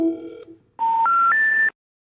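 A telephone call is dialed with a short burst of keypad tones, followed after a brief pause by three clear, loud rising beeps, heard alone without any voices.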